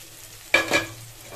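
Bitter gourd and potato fry in a pan: a short, sharp burst of sizzling and stirring rises out of a quiet background and fades within a second.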